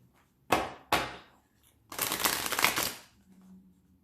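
Tarot cards being shuffled by hand: two quick, crisp snaps followed by a longer, dense riffle lasting about a second, close and fairly loud, with no voices.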